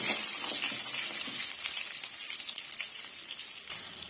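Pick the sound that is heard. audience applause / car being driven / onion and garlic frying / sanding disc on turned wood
onion and garlic frying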